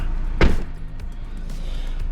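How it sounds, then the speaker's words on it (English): A car door on an Audi A6 closes with a single solid thud in a garage during an oil change, followed by faint ambient noise and light clicks. "There, can close the door."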